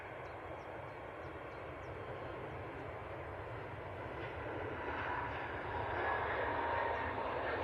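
A Jet2 airliner takes off toward Naples, a steady broadband engine roar that holds throughout and swells slightly toward the end, heard from a distance with no talking.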